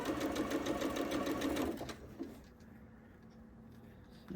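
A sewing machine runs in a fast, even stitching burst along a toddler's scrappy quilt seam for about two seconds, then stops, leaving a quiet room with faint handling noise; close and moderately quiet.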